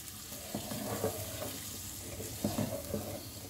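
Green chicken curry with roasted meat being stirred in a pan, a steady low sizzle under scattered scraping and clinking of the spoon against the pan, close and fairly quiet, with no talking.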